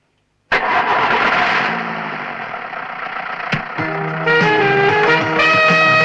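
A vehicle engine cranks and catches with a loud sudden burst, then settles into a steady idle before music swells underneath.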